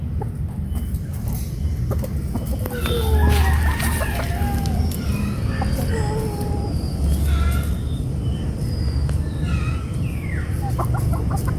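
Hens cluck steadily while a rooster crows nearby, with more birds calling in the background; no one speaks.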